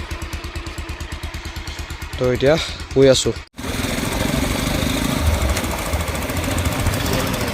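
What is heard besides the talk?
motorcycle engine after a cold start, riding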